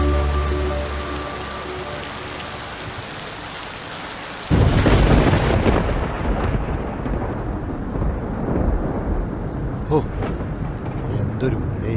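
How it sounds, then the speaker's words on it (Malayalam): Heavy monsoon rain pours down with thunder, a loud broadband roar that jumps in suddenly after a quieter stretch and keeps drumming steadily on surfaces, with a person speaking over it. "എന്തൊരു മഴയാണ്! ഇന്നലെ പിടിച്ച മഴയാണ്."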